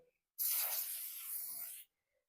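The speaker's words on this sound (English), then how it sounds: "Spray your hair to give it that shiny look and a nice smell." Hairspray from an aerosol can is sprayed onto hair in one continuous hissing burst of about a second and a half, close and fairly clear, with near silence before and after.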